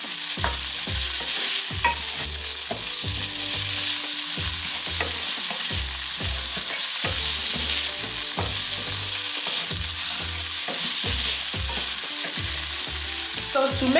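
Peas stir-fried with shrimp in pineapple fried rice, a loud, close sizzle with rhythmic spatula scrapes and knocks against the pan repeating steadily for the whole stretch, no talking.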